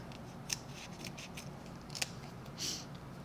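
Scissors snip through paper craft pieces for a card kit, a few quiet, crisp cuts at about half a second, two seconds and near the end, alone over faint room noise.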